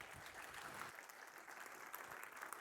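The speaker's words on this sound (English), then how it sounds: "Applause for Filip Nikolic," Audience applause for speaker Filip Nikolic taking the stage at a tech talk, a faint, steady patter of clapping lasting a few seconds with no voices.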